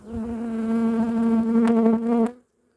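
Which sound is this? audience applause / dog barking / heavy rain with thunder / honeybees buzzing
honeybees buzzing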